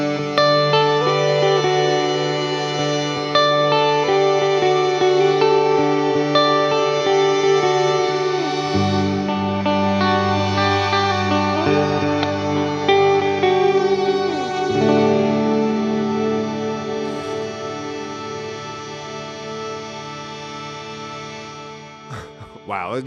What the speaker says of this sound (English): let's try the glide synth.